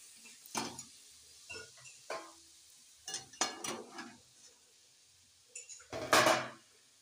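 Tomato paste is stirred in a cooking pan, heard as intermittent close scrapes and clinks of a spoon against the metal over a faint sizzle, with quiet gaps between strokes.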